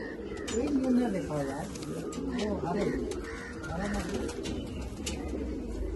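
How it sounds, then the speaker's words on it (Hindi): Flying pigeons coo softly in low, rolling calls that repeat through the clip, heard nearby under a man's speech. "बहुत अच्छे उड़ने वाले कबूतर हैं"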